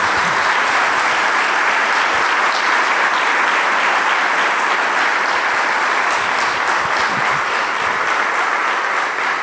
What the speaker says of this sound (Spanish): Un aplauso para Osvaldo Bayer